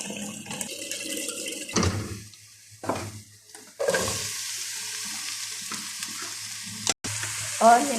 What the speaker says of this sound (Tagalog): fry muna natin ang okra sa mantika